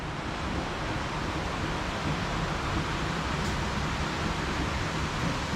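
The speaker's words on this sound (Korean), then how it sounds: "비 많이 온다" Heavy rain comes down in a steady, dense broadband roar, with no clear separate drops, loud and constant throughout, close by and with no talk.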